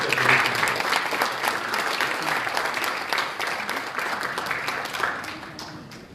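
A conference audience at a sustainable tourism gathering in Botswana applauds a panel, steady dense clapping filling the room throughout without a break.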